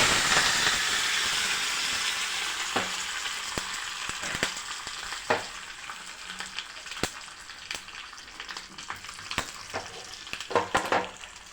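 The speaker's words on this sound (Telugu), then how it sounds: "ప్యాన్లోకి ఆయిల్ వేసుకోవాలి. ఆయిల్ హీట్ అయినాక పోపు దినుసులు వేసుకోవాలి." Spices for tempering frying in hot oil in a pan for coconut chutney, a fading hiss of sizzling broken by sharp pops and crackles that grow more frequent toward the end.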